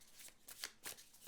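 A deck of oracle cards is shuffled at a table, giving several soft, brisk riffling bursts that rise and fall close to the listener, with no voices.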